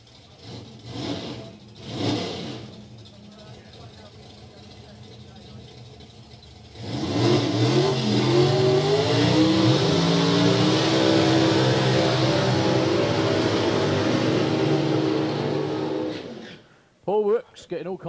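A drag racing car launches down the strip at a drag racing event. Its engine bursts into a loud, sustained roar that climbs through the gears for about ten seconds before cutting off abruptly, after a quieter stretch with a few earlier engine bursts.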